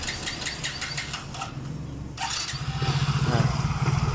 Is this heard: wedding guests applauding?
no